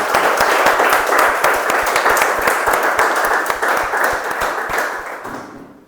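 Audience applause fills a meeting room, a dense, steady patter of many hands clapping close and loud, with no talk over it, then fading out at the very end.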